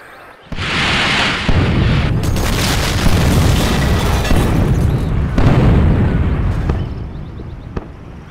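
Rocket strike from an MLRS in C&C Generals Zero Hour, a heavy rolling barrage of booming explosions that starts abruptly and rumbles on loudly for several seconds, with no voices over it.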